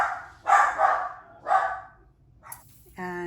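Dogs bark nearby in three or four sharp, separate barks, followed by a brief high whine-like tone at the end.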